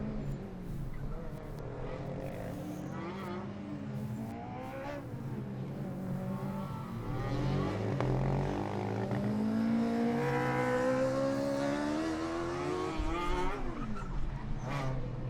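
Formula Student race cars run on track during the 2012 FSG endurance event, their engines revving with rising and falling pitch as they pass at a moderate distance, with brief tyre squeal.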